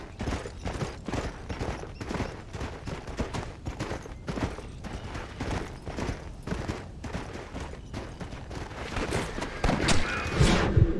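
Rapid volleys of gunfire from the Red Dead Redemption video game, a dense run of sharp cracks and thuds across the whole span, growing louder toward the end.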